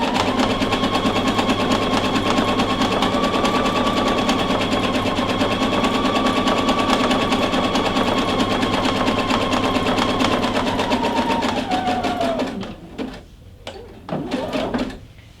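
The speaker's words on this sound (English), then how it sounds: "I'm going to go ahead and stitch all the way down" A sewing machine runs a zig zag stitch along a fabric edge, a steady loud mechanical whir with rapid rhythmic needle clatter for about twelve seconds, then slows and stops, followed by a few faint handling clicks.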